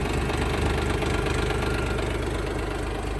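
A 2021 Dongfeng 244 tractor's diesel engine idles steadily up close, its low knocking chug repeating evenly throughout with no voices.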